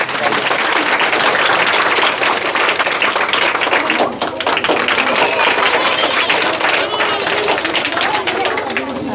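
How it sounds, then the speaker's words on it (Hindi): A group of schoolchildren claps loudly and continuously in a room. The dense clatter of many small hands goes on for the whole stretch, with only a brief dip partway through. "बच्चों, तालियां"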